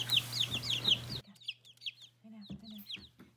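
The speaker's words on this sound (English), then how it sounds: "Listen to that loud chirping." Day-old fluffy chicks peep loudly and rapidly while being picked up and moved into a new home, a dense chorus of high chirps that thins into scattered peeps, with a low steady hum underneath.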